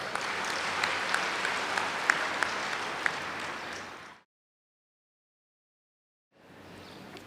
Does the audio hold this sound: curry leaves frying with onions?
no